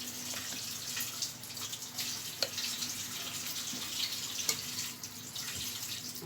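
Tap water runs steadily into a sink while hands are washed in a kitchen, a close, even splashing stream with small irregular spatters and no talking.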